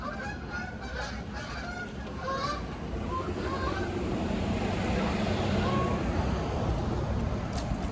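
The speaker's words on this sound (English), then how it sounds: "look at all the Canadian geese." A flock of Canada geese honks repeatedly at a distance near a river crossing, the calls mixed into steady outdoor wind and traffic-like background noise.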